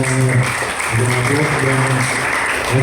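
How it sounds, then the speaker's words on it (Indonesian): Steady, dense applause from a seminar audience fills the whole stretch, loud and sustained, with a faint hum of voices underneath. "Sekali lagi kita tepuk tangan"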